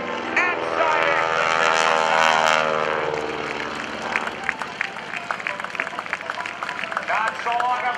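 An unlimited-class aerobatic propeller airplane performs at the 2012 NAS Oceana airshow. The engine drones loudly and its pitch sweeps as the plane manoeuvres, then fades while an announcer speaks over it.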